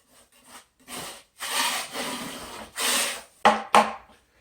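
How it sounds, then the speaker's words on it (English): A putty knife scrapes over drywall joint compound in several separate rough, rasping strokes close up. Each pass is about half a second long, with two sharper scrapes near the end and no talk. "Just run the putty knife over it, take off any little bumps and ridges."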